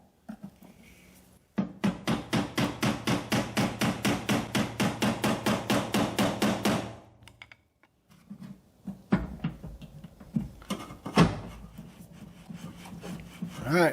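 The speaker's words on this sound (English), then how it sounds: "let me tap those in and then we'll wrap this up" Rapid, evenly spaced taps, about twenty in a steady run, come from a hammer seating parts while a windshield wiper motor is fitted to a 1964 Thunderbird, followed by a few irregular knocks and clunks.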